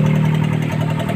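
A Suzuki AX4 motorcycle engine idles with a loud, steady, low throbbing rumble heard up close, continuous and with no one talking.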